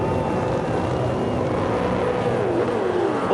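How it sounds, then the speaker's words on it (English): Tasman Motorsport's Auto Trader Holden Commodore V8 Supercars blast away from the start at Pukekohe in a loud, continuous roar of engines, with a rising and falling whine as cars accelerate past. "And it's the Auto Trader Commodores for Tasman Motorsport that blast away"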